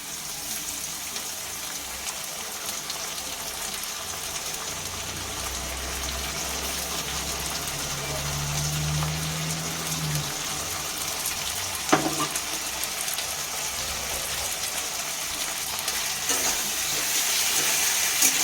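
Tomato frying with ginger, garlic and green chili paste in a pan, a steady sizzle and hiss with stirring scrapes and a brief clack near the middle, moderately loud and unbroken, no voices.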